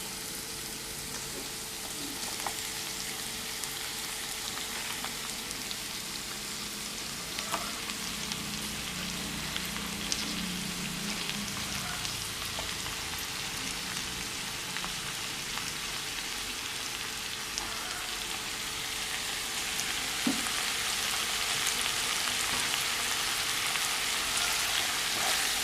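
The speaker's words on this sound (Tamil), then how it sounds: "நல்லா வழுதனங்கையும் சவாளையும் நல்லா பொன்னிறமாக வதங்கிருச்சு." Brinjal and onion frying in a pan for a Tamil street-food dish, a steady soft sizzle that runs evenly throughout, with occasional light stirring clinks.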